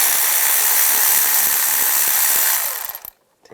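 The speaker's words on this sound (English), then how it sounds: "We're going to use a 10mm socket." A ratchet wrench with a 10mm socket loosens a ground wire bolt on the engine of a 1996-2002 Toyota 4Runner, giving a rapid, close clicking that runs steadily for about two and a half seconds, then stops.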